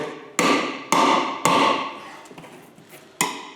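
Lineman's pliers are swung like a hammer to punch out a knockout on a metal electrical box: four sharp, loud, close blows spaced about half a second apart, then a few lighter taps before a final strike.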